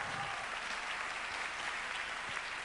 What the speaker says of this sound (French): On applaudit le ministère des Armées